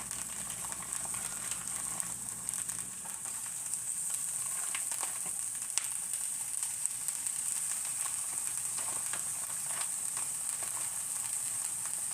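Members Mark bacon cheddar smoked sausages sizzle in oil in a cast iron grill pan, a steady close hiss with scattered crackles and pops throughout.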